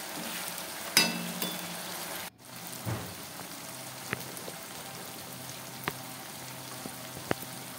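Onion, tomato, ginger-garlic paste and salt sautéing in a pan make a soft, continuous sizzle, with a clank early on and scattered light ticks and scrapes, fairly quiet and close.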